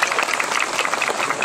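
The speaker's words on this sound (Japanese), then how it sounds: "皆様大きな拍手でお迎えください。" Steady applause from a crowd welcoming the head priest at a summer Bon Odori temple festival at Zojoji, a dense even patter of many hands clapping, fairly close and continuous throughout.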